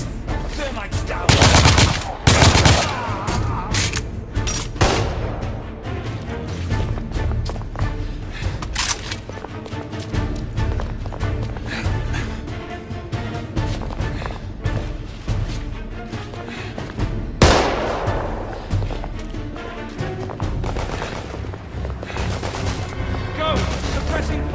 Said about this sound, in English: Go! Suppressing fire!